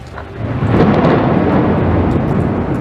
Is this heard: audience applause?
no